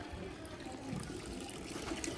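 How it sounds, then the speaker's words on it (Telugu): Water pours in a steady, low rushing stream, fairly faint, with no voices. "కొన్ని నీళ్ళు ఫ్రెష్ నీళ్ళు పోస్తా"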